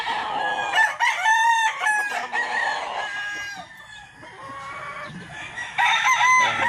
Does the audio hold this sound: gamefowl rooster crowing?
yes